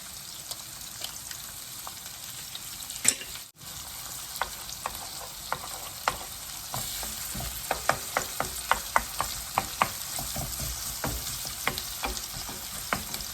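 Three eggs ringed with shallots fry in a pan for pad thai, a steady sizzle filled with scattered sharp pops and crackles and occasional stirring scrapes.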